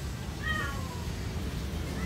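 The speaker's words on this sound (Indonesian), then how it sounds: "Tuh kucing naik tuh." A cat gives one short meow from a short way off, heard over steady outdoor background noise.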